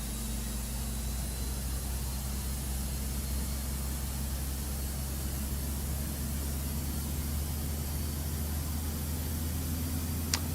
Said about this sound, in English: For an APU, that sounds really good.